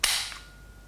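A single sharp semi-auto shot from a KWA MP9 airsoft gun, a crisp close pop with a short hissy tail that fades quickly into quiet.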